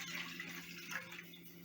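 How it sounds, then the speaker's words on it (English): Water pours into milk in a pot on the stove, a steady soft trickle and splash over a low background hum, with no talking. "adding 1 cup of water."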